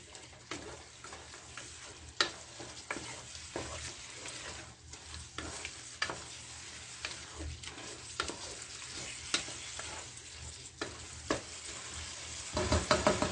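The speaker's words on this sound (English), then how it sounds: "we allow that to fry" A noodle mixture sizzles steadily in a frying pan, a soft continuous crackle broken by sharper ticks and pops, close and fairly quiet, with no voices.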